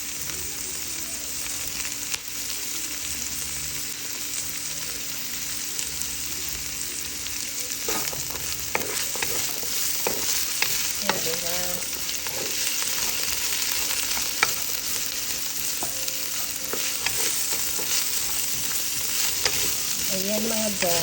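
Carrots stir-fry in a hot pan with a constant loud sizzle, while a utensil scrapes and clinks against the pan at irregular intervals.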